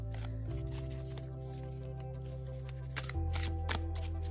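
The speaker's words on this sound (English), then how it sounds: "let's shuffle this up." A deck of Wild Wolf tarot cards is shuffled close up, a soft riffling and sliding of cards over a steady low electrical hum.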